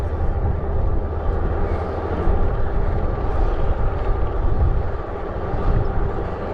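A helicopter near a river bike trail, hovering a few feet above the ground and landing repeatedly, heard as a steady low engine and rotor drone that stays constant and moderately loud, with no voices.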